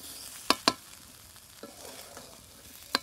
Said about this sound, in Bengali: উনুনের আঁচ কমিয়ে 2-3 মিনিট সময় নিয়ে ভেজে নেব, যেন কড়াইয়ে লেগে না যায়।